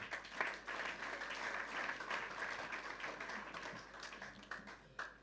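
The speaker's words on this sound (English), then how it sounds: "Clap for yourself again." Audience at a university gathering in Ghana clapping for themselves, a sustained round of applause heard from a distance at low level, with scattered sharper claps throughout.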